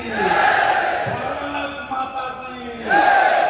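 A large political rally crowd in Khairagarh chants the slogan in a loud, roaring unison, with swelling voiced shouts that rise and fall over a few seconds, close and dense.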